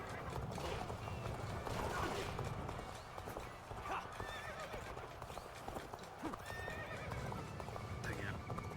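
Horses gallop and neigh in the Dynasty Warriors: Origins video game, with rapid hoof clip-clop and repeated whinnies sounding loud and continuous over battle noise and in-game voices.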